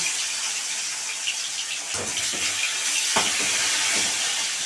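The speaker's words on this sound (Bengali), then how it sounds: "মাছটা ভাজা হোক" Fish fries in hot oil with a loud, steady, bright hiss that fills the whole clip, broken by a few dull thumps or knocks partway through.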